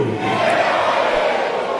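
A large crowd at a Southeast Nigerian youth leadership programme shouts together in one loud, sustained collective roar, near and dense for about two seconds.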